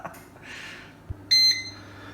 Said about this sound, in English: It's just busy started beeping there, so let's have a look.